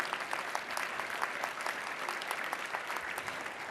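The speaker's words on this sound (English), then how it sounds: "So please give him a big round of applause." Steady, fairly faint applause from an audience at a women's bar association installation event, an even patter of many hands clapping with no pauses throughout.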